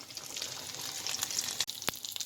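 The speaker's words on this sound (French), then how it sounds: "Ici, les petits choux-fleurs qui cuisent là, tranquillou." Small cauliflower florets sizzle gently in a pan beside chicken, with a steady, close hiss of frying broken by a couple of sharp clicks and pops.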